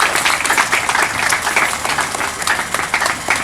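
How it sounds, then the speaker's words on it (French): Loud, sustained applause at an inauguration ceremony for an old people's home in Kisangani as the governor's representatives arrive, dense clapping from a crowd filling the whole stretch with a few voices mixed in. "On acclame très fort, on acclame très fort."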